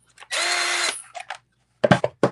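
An open-box drill driver whirs in one close, loud burst of about half a second, followed by a few short clicks and mechanical knocks.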